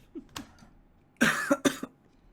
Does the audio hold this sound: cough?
yes